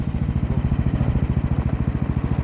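A motorized tow sled engine warming up on a cold fishing trip, running with a steady low, pulsing chug at close range with no talk over it.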